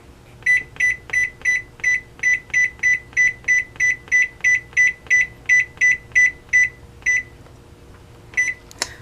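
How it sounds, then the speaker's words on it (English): A kitchen timer on an oven set for a snack bake gives a long run of about eighteen short, evenly spaced electronic beeps, loud and close, then a few scattered beeps after a pause, with no talk. "I'm going to set the timer."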